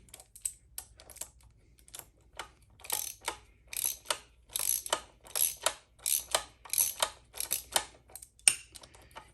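A hand ratchet tightens bolts on a Honda Monkey chain setup, sounding as rapid bursts of sharp clicking strokes with short pauses between them, close and fairly quiet.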